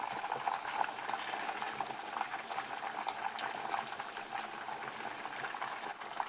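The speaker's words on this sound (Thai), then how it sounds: "ทอดให้จนเหลืองจน ได้สีที่เราชอบนะคะ" Fermented fish (pla som) deep frying in hot oil until golden, a steady dense bubbling crackle with small pops, moderately quiet and continuous with no talking.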